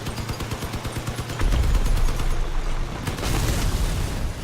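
Vehicle-mounted weapons in the Crossout combat game firing as rapid, loud repeated bursts, a stuttering gunfire rhythm followed by a heavier booming barrage.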